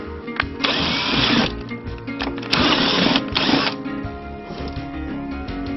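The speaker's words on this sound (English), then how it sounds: "I drilled my holes." A power drill bores holes during a Honda GL1800 Goldwing CB and antenna install, in two or three short whirring bursts with quiet pauses between them.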